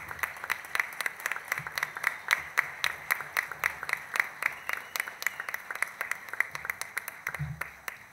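An audience at an award ceremony honouring Santa Fe's distinguished citizens, including Argentina's Copa América 2021 football squad, claps in a steady, rhythmic ovation that holds at an even level throughout.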